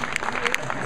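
A brief burst of clapping from an audience at a conference talk, a few hands standing out close by over a blurred wash of claps, cut short within a second.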